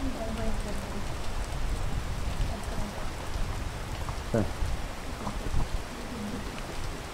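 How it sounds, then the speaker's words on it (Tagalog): Steady rain patters down in a continuous wash of noise on Marcus Peak, with a faint voice murmuring briefly underneath. "Tagal ng ulan."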